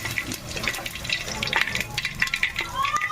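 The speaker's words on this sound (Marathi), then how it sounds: "बघा मस्त आवाज यायला लागला जिरा मोहरीचा" Cumin and mustard seeds sizzle and crackle in hot oil, a steady close frying hiss with scattered small pops, for a Marathi-style pea rice tempering.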